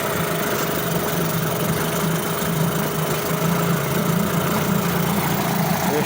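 An 8hp Suzuki outboard motor runs in gear after a conversion from oil injection to premix. It gives a steady, loud, close mechanical drone with constant vibration and no speech over it.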